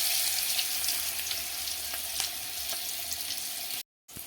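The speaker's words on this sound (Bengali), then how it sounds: "ভাজার জন্য কুমড়ো দিয়ে দিচ্ছি" Pumpkin slices fry in oil on a traditional clay stove, giving a steady, fairly quiet sizzle with faint crackles, ending in a brief gap of silence.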